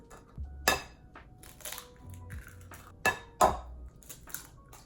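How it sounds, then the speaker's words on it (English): Eggs are cracked one-handed against a bowl while making paleo banana bread, producing several sharp taps and clinks of shell on dishware between quiet pauses. "Let's see how like professionally I can crack an egg. I can do it with one hand."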